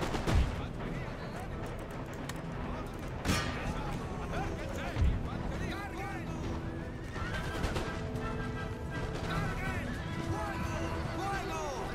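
Artillery volleys in the Empire Total War battle, booming over a dense, continuous din of musket fire, horse whinnies and hoofbeats, with several sharp blasts standing out and talk running under the chaos.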